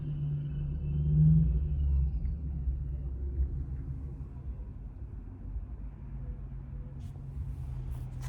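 A Mustang drives past towing a trailer made from the back half of another Mustang, its low engine rumble swelling close by early on, then settling into a steady, fading drone with no talking.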